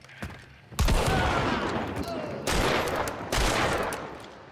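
A shotgun firing slugs in the video game Hunt Showdown: three heavy, booming blasts about a second apart, each with a long rumbling decay and loud close impact, after a faint quieter stretch.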